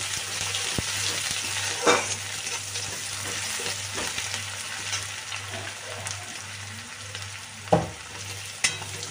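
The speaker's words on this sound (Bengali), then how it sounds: "দিয়ে একটু ভেজে নেবো হালকা ভেজে নিচ্ছি এটাকে" Chopped onion frying lightly in a pan for a lentil dish with fish head, a steady bubbling sizzle under a low hum, punctuated by a few sharp spatula scrapes and taps.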